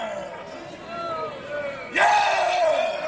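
A strongman lets out a loud, drawn-out shouted warm-up roar at the 1985 World's Strongest Man contest as a crowd cheers and yells around him, rising sharply partway through.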